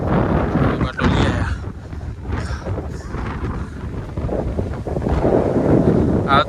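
Strong wind buffets an outdoor microphone in loud, continuous rumbling gusts that swell and ease throughout, with a person's voice talking faintly beneath the roar.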